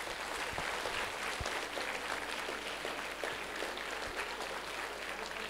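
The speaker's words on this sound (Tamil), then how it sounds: "நல்லா பிடிச்சிருந்ததுன்னா ஒரு கைத்தட்டல் கொடுங்க எல்லாரும்." Audience applause filling an auditorium at a music festival, a dense steady wash of many hands clapping at even loudness throughout, with faint voices mixed in.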